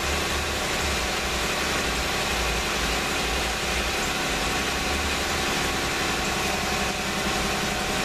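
A 2015 Jeep Wrangler's engine idles steadily after a remote start, a continuous low rumble with faint vibration that stays even and loud throughout, with no voices.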